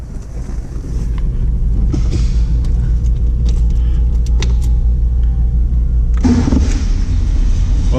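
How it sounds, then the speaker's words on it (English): A 1961 Mercedes-Benz 190SL is cranked and fires up, its engine settling into a loud, steady idle close by before the revs shift near the end. "Let's see how well this car starts."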